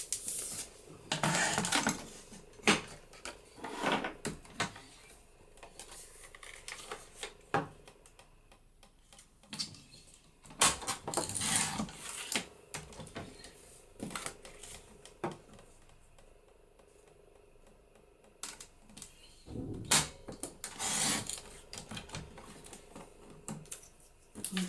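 Paper being trimmed for a junk journal gatefold page: a series of short, crisp cutting and snipping bursts close by, separated by quiet pauses, with light handling rustles in between and no talking.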